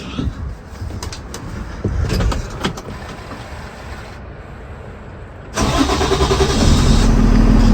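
A car engine cranks with a JFEGWO F60 jump starter, first in uneven, rough bursts, then catches and settles into a louder, steady running rumble close by.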